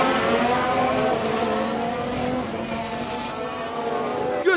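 Ferrari Formula 1 car engine in the racing game F1 Manager 22, a steady high-pitched drone with engine notes close by, holding even throughout with a brief jump at the very end.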